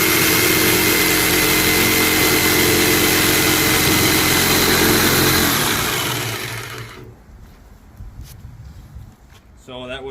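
Corded DeWalt jigsaw cutting through material in a speed test, a loud steady buzzing whine that runs for about six seconds and then winds down, followed by someone talking.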